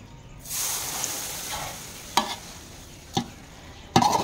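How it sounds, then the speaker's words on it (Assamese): Heated mustard oil, about 500 grams, poured over pickle spices sets off a broad steady sizzle with a few sharp crackling pops, close and fairly loud. "500 গ্ৰাম তেল গৰম কৰি লৈ ইয়াত এতিয়া ঢালি দিম"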